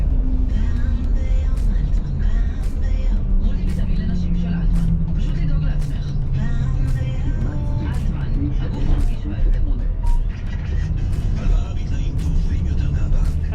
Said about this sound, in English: I'm waiting for the next bus now, which is already here.